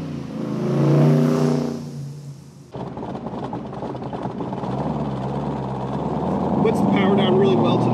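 A Backdraft Cobra replica with a 427 V8 making 480 horsepower and a Tremec T5 five-speed manual revs loudly, then drops off. It pulls away under acceleration with a steady, growling drone.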